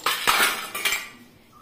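Cleaned rubber fridge gasket parts set down on a plate, giving a few close clinks and clatters that fade out within a second or two, with no voices.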